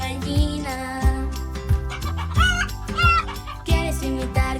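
Farm hen sounds in a children's animal song: repeated clucks and crowing calls over a bouncy musical backing with a steady bass beat, loud and close.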